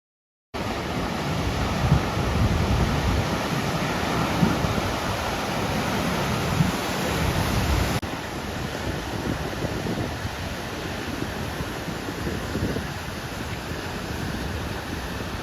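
Ocean surf at a harbor mouth with a small white tower, heard as a continuous broadband roar of waves, steady and fairly close, with wind buffeting the microphone.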